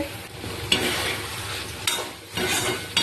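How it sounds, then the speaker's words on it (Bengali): Okra chorchori stir-fried in a pan, a close sizzle broken by repeated scraping strokes of a spatula, several stirring bursts with brief pauses between them. "ঢ্যাঁড়স চচ্চড়িটা কষানো চাপিয়ে দিয়েছি, কষানো হচ্ছে।"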